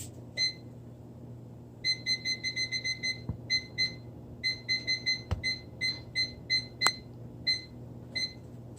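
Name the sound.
timer beeping after being set while baking a cake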